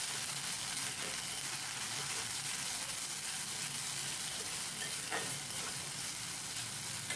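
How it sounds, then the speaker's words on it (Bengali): Ginger garlic paste fries in a hot pan, giving a steady close sizzle with a soft hiss and occasional crackles and stirring scrapes, no voices. "এরপরে আমি এর মধ্যে দিয়ে দেবো আদা রসুন বাটা। এটাকেও আমি এখন ভালো করে ভাজবো"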